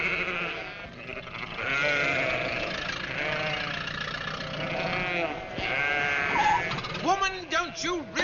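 Sheep bleat loudly and repeatedly at close range, a chorus of wavering cries that overlaps with people talking and shouting nearby.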